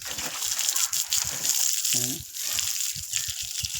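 Water sloshes and splashes in irregular bursts as a buffalo is washed in a pond, with short rhythmic slaps of water close by and no talking.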